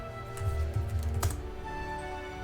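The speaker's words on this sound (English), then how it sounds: "if I type in PowerShell" A command typed on a computer keyboard, a brief burst of soft key taps over a steady electronic hum, close and quiet.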